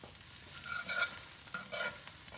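Eggs cooking in butter in a pan, a quiet soft sizzle with a few brief louder spurts and scrapes, close but faint, no voices.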